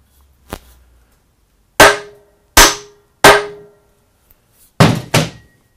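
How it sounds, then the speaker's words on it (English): A boat fork is tapped to check whether it is solid: five sharp, close knocks, one faint and four loud, spaced about a second apart, with quiet between them. "Okay, last tap sounded solid."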